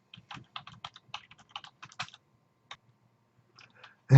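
Typing on a computer keyboard, close and crisp, a fast run of light plastic key clicks that thins into a few scattered taps after a pause, ending on one heavier knock, with no voices.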